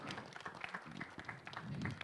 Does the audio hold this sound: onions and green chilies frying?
no